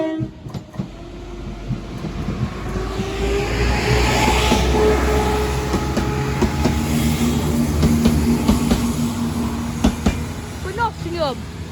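Trains pass a level crossing at Sleaford West: a rumbling approach builds to a loud, sustained roar of wagons with rail clatter, a steady tonal hum from the train, and fading clicks near the end.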